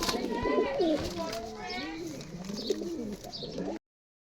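Native female pigeons coo in a series of soft, rolling calls close by, with faint chirps mixed in and a few overlapping bird voices throughout.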